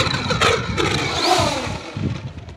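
An RV7 light aircraft's engine gets a short burst of throttle, rising from a rough idle into a brief revving growl, close and fairly loud over a couple of seconds.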